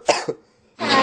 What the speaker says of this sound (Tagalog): Narinig mo ba ang ubo ko?